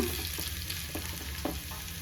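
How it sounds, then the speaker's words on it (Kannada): Garlic frying in hot oil for a coconut kadi tempering, after mustard seeds have popped; a steady close sizzle with a few soft crackles throughout, no voices. "ಈಗ ಅದಕ್ಕೆ ಬೆಳ್ಳುಳ್ಳಿ ಸ್ವಲ್ಪ ಫ್ರೈ ಆದ ತಕ್ಷಣ"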